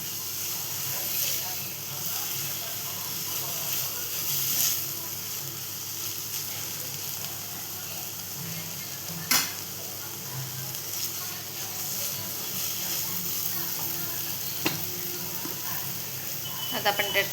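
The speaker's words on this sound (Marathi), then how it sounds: "चांगली परतवून घ्यायची" Chopped bottle gourd sautéing in a pan for a Marathi-style dudhi bhaji, a soft continuous sizzle and hiss with occasional sharp clicks of a spoon stirring against the pan.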